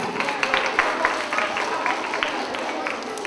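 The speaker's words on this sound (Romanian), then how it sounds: "Aplauze!" Applause at a school end-of-year ceremony in Ciochina, Romania, scattered moderate clapping from an outdoor gathering with crowd murmur and voices underneath.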